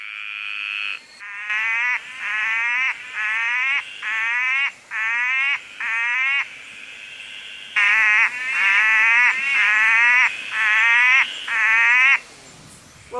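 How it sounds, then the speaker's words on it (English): Two similar tree frog species, graceful tree frog and orange-thighed tree frog, calling loudly and close by in repeated bursts of rapid rising trills, several in a row, then another series after a short pause, with no voices. "A graceful tree frog and orange-thighed are very similar looking frogs, but notice how very different their calls are."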